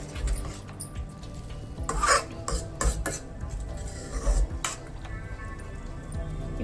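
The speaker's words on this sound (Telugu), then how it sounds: "వేసుకొని ఒక్కసారి కలిపేసుకోండి." A utensil stirring spiced stuffed brinjal curry in a pan, giving irregular close scrapes and clinks against the metal with a faint sizzle beneath.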